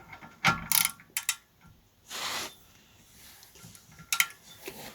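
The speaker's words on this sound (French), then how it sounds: "Alors, je dévisse comme ça." A part is unscrewed during a rear shock absorber spring swap on an Abarth, with a few short ratcheting clicks and mechanical scrapes separated by quiet gaps, close to the microphone.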